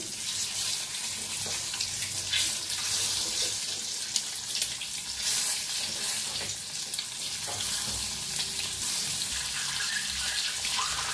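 Eggs fry in hot oil in a pan, a constant loud crackling sizzle running the whole length with small spits and pops, no one talking.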